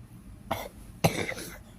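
Two harsh coughs, close and fairly loud, about half a second apart, the second longer and rougher, with quiet room noise between.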